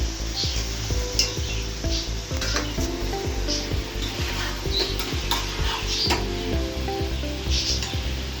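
Sautéing with Schezwan sauce in a pan for masala idli: a steady, close sizzle runs under repeated rhythmic scrapes and taps of a spatula stirring against the pan.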